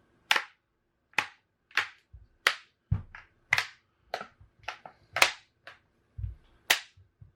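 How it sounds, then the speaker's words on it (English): A series of sharp plastic clicks and snaps as the back cover of a Samsung Galaxy Tab A 10.1 tablet clips into place, about a dozen spaced irregularly, close and crisp against near silence. "just clip in until you hear it click all the way around"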